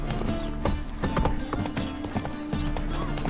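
Roach the horse gallops in The Witcher 3, with quick rhythmic hoofbeats clip-clopping close and loud and a brief whinny mixed in.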